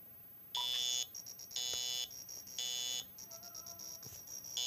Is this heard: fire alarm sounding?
yes